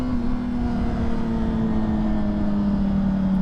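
A motorcycle engine drones steadily while riding, with no fairings fitted, a constant close hum whose pitch sags slightly as the bike eases off, with wind rush throughout and no talk.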